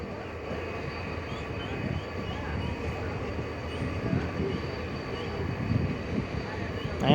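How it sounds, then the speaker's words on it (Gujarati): A train at Sihor Junction railway station gives a steady, low rumble with a faint tonal hum, continuous and even for the whole stretch. "જોઈ શકો છો અહીંનું રેલવે સ્ટેશન છે સરસ મજાનું"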